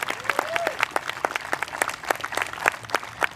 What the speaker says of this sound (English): join me really quick in a round of applause